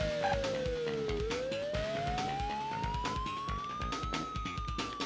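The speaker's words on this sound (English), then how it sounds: "I'm sorry about the oddly loud sirens." Police sirens wail in the 1994 3DO motorcycle racing game Road Rash, a loud sweeping tone that dips and then rises over a backdrop of game music and engine noise.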